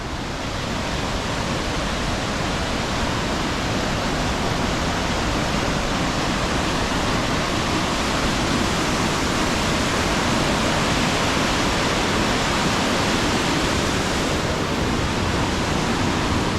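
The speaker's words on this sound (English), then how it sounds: "Everywhere you look, you can just see waterfalls" Himalayan waterfalls in Nepal's Langtang valley pour down toward the Langtang stream, making a steady, dense roar of rushing water that stays loud and unbroken throughout, with no voices.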